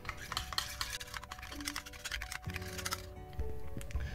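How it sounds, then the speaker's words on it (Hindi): Honey being stirred into a lip scrub mixture in a small bowl, soft quick clicks and scrapes of a spoon, faint and close, with a couple of brief tonal squeaks. "फिर इस दोनों को आप अच्छे से मिक्स कर लीजिए।"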